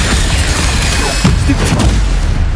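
The Incendio fire spell in Hogwarts Legacy erupts in a rush of booming, crackling bursts, loud and close, with several sharp pops and a roaring flare through the short span.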